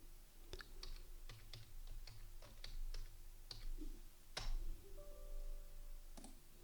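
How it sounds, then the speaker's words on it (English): Quiet keystrokes on a computer keyboard tap out a short command at an irregular pace, a dozen or so soft clicks over faint room hum, ending with a firmer keypress. "Let's go to the command prompt and type hdwwiz exec command to start Add Hardware Wizard."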